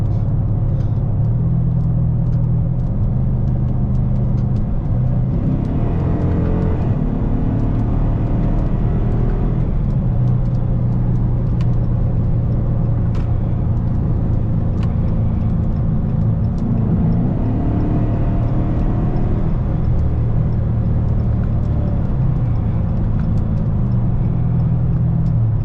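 A modified Dodge Charger RT rumbles while driving, its intake giving a deep, loud engine drone that rises and falls through gear changes, heard from inside the car with no talking.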